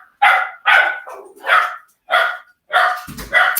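A dog barks loudly and repeatedly, about six evenly spaced barks close to the microphone, with short quiet gaps between them.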